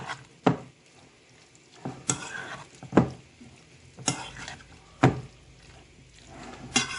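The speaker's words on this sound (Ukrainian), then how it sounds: "Додаємо майонез і все перемішуємо." A spoon scrapes and knocks in a bowl as a Ukrainian salad is stirred with mayonnaise, giving irregular soft clacks and wet shuffling at a moderate, close level.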